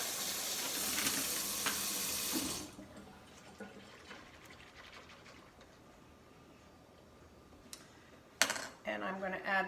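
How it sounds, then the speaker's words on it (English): Hot oil sizzles loudly and close for a couple of seconds, then quiets to a soft crackle before a brief clatter and a voice at the end. "So the oil has heated up in the frying pan."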